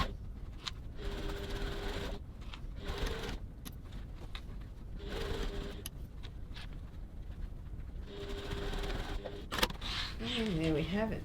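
A sewing machine stitches a bag seam at stitch length 2.4 in short runs of rapid whirring, separated by pauses, with a person talking over and between the bursts.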